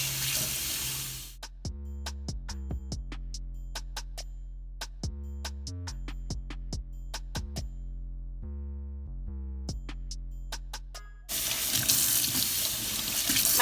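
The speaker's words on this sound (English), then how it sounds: "So you want to take your closure, and now you just want to rinse that bleach." A tap runs while bleach is rinsed out of a hair closure, a loud, steady splashing stream at the start and again at the end, with a stretch of plucked tonal music between.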